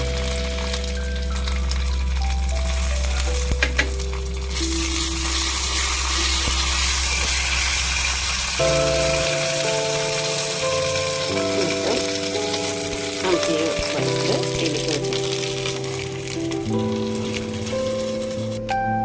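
Mustard seeds, dried chilli and curry leaves sizzling in hot coconut oil, a continuous crackling hiss with scattered pops, heard close beneath steady background music.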